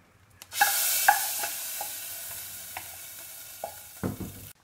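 Masoor dal being stirred after a hot fried tempering is poured in, a sudden sizzle that settles into a steady hiss with scattered spoon clinks and a final scrape, close and fairly quiet.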